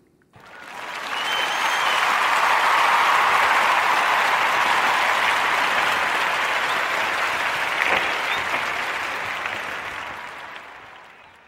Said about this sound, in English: giving those sisters a warm Narrative Podcast round of applause